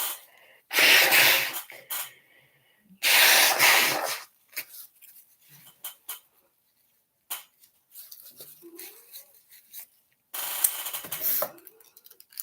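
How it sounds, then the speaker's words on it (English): Nose blowing during a sinus or possible COVID headache, several strong, forceful blasts of breath through the nostrils, close and loud, separated by quiet pauses and softer sniffing and rustling. "keep blowing your nose."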